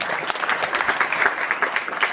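Audience applause at a secondary school award ceremony honouring meritorious students, a steady dense wash of many hands clapping close by, unbroken for the whole stretch with no talk over it.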